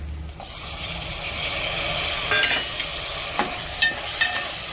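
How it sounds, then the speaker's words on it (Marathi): Tomatoes sauté in a hot tempering for a spicy okra and carrot dry vegetable dish, a steady close sizzle broken by several light scraping stirs of a spoon against the pan, with no talking. "दोन मिनटं परतून घ्यायचं"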